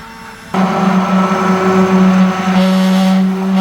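A motor whirs into loud, steady operation after a brief quiet start, a sustained high-pitched mechanical whine of a kitchen blender puréeing leek and potato soup close by.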